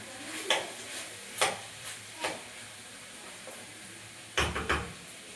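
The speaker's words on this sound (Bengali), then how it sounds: "ওর মধ্যে তোমার দারচিনি এলাচ দিয়ে ভেজে নিচ্ছি" Cinnamon and cardamom fry in white oil in a pan for fried rice, giving a low steady sizzle broken by several sharp scraping stirs, the last few bunched together, close and clear with no talking.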